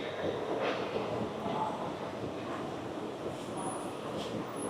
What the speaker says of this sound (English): So I am now on the monorail.